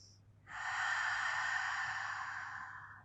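A single long breath during a Pilates back stretch, an elbow pressed against the thigh while the other thigh is pulled to the chest; one close, soft airy exhale lasting a few seconds, alone in a quiet room.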